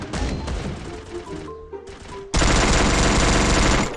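Dual guns fire in the mobile shooter Free Fire: rapid gunfire with game effects and brief tonal chimes, then a sudden, louder, dense continuous barrage for the last second and a half, close and loud.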